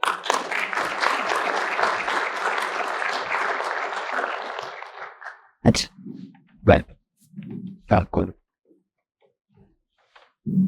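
Sustained applause from a summit audience welcoming panelists onstage for a South Texas jobs, education and health panel, dense and steady for about five seconds before fading, followed by a few scattered short thumps and murmurs.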